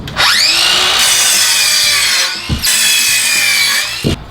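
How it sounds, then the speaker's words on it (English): A power saw cuts timber blocking to size for a water-damaged plasterboard ceiling repair, two loud sustained high-pitched cuts separated by a brief dip, each ending with a thud. "Now it's simply a matter of cutting our blocking to size all the way around so we can trim out the opening."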